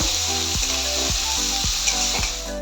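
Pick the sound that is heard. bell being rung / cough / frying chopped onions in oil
frying chopped onions in oil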